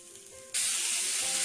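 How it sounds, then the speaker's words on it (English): Cauliflower searing in a hot skillet: a quiet hum suddenly gives way to a loud, steady hiss of sizzling that holds to the end. "Okay, you can see we got it searing away there."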